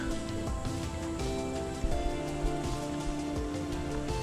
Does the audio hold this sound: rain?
yes